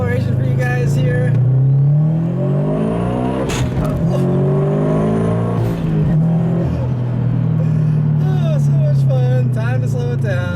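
A turbocharged Scion FR-S pulls a low acceleration run, its engine droning loud and close as the pitch climbs, with a shift and a fresh climb midway and someone talking over it.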